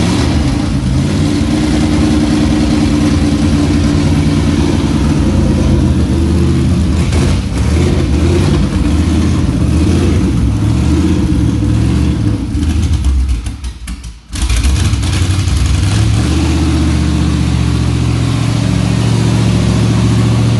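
Stock Dodge Magnum R/T V8 revving hard on a chassis dyno, a loud sustained engine roar that holds steady for most of the run, drops off briefly near the end as the throttle lifts, then swells back up.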